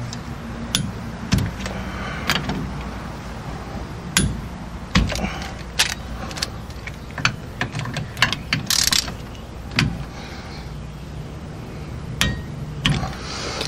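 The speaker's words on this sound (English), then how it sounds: "Set our torque wrench to 36 foot-pounds. Alright. And tighten these bad boys up." A torque wrench ratchets as it tightens bolts on a drop spindle and disc brake backing plate of a VW Beetle, producing rapid, repeated clicking bursts close by with metallic clanks between strokes.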